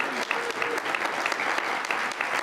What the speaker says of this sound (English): this would be a great time to give them all a round of applause